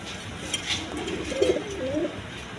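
A pair of pet pigeons cooing softly at close range, a few low throaty coos rising and falling through the middle of the stretch over steady background hiss.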